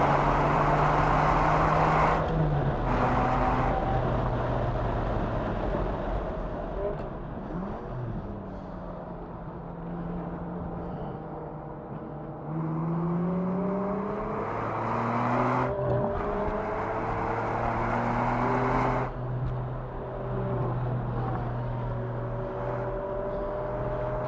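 A 2000 Ferrari 550 Maranello in a Ferrari Challenge race accelerates hard around a track, its engine rising through the revs and then briefly dropping on gear changes, loud and continuous from inside the car.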